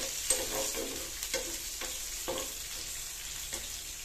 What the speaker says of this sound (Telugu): ఈ ఆనియన్స్ కూడా కొంచెము వేగనివ్వాలి